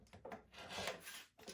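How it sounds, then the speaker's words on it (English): A 3-inch strip of fabric is cut for quilted pumpkins made from scraps, giving a faint, close, rasping scrape that rises and fades in short strokes over a second and a half. "let me cut another 3-inch here"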